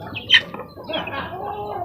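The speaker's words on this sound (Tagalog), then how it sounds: "Ang aking mga sisiw" Baby chicks in a backyard poultry coop give a few short, high chirps close by, with one brighter peep standing out amid soft rustling and faint background noise.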